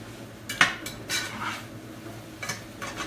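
A cooking pot set back down on a stove, giving a few sharp metallic clanks and scrapes of cookware in quick succession, close and clear with no talking.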